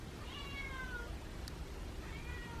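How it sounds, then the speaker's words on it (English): A feral mother cat gives thin, high kitten-like cries, one drawn-out meow followed by another fainter one, over a low background hum outdoors. "she has a kitten cry"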